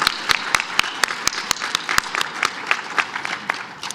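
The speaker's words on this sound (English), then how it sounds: "I hope you'll join me in giving the staff of Denver a round of applause." A round of applause at a conference roundtable on city marijuana policy, a fairly small group clapping with distinct, uneven claps that thin out slightly toward the end.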